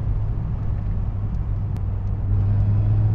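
Peugeot 206 CC S16 engine humming steadily while driving, a loud constant low drone with slight swells in load and no talking.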